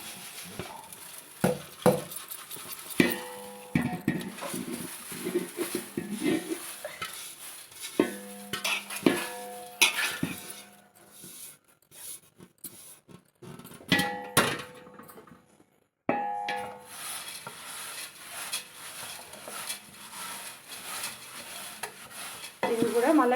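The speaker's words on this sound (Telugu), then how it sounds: "ఇవి కూడా మళ్ళీ క్రిస్పీగా వచ్చే వరకు వేయించుకోవాలి." Flattened rice (atukulu) is fried in a pan until crispy, with a sizzle under clattering stirring and metal clinks of a utensil on cookware, alternating with quieter pauses, close by, and no voices.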